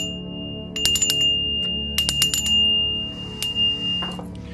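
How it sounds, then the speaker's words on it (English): A small bell is struck a few times in clusters, giving bright metallic rings with a sustained high tone that fades slowly, close by in a quiet room under a low background hum. "So now we're going to ring the bell."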